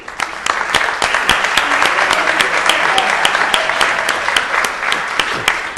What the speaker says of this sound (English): thank them again in a round of applause for our younger commissioners